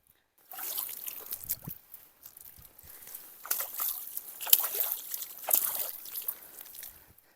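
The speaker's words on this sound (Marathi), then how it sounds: "आता आलो तिथे पाण्याला टच करतो" Soft splashing and trickling of clear river water as a hand dips and stirs it at the Nira and Gunjavani rivers' confluence near Pune, close and gentle, with small sloshes rising and falling over several seconds.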